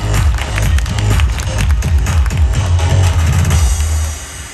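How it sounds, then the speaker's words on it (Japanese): An audience at a Universal Studios Japan Sesame Street show cheers and applauds loudly and steadily, with claps and shouts, fading slightly at the end. "それでは皆さん、もう一度4人に大きな拍手"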